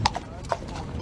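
Horse hooves clip-clopping at a riding school where farriery students shoe horses, a couple of sharp hoof strikes close by with a faint whinny-like tone over low background noise.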